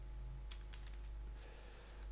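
Computer keyboard typing during web coding work, a short run of soft key clicks, several distinct taps close by over a steady low hum, no voices.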